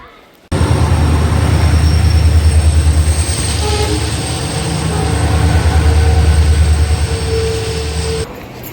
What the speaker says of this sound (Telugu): కర్నూలు సిటీ 2వ నెంబర్ ప్లాట్ఫామ్కి వ్యాపూర్ లోకోమోటివ్తో ఒక ట్రైన్ వస్తుంది చూడండి